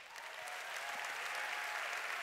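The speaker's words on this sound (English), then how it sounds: "Give yourself a hand." A conference audience at a church gathering applauds steadily, a continuous wash of clapping heard from a distance, without a break.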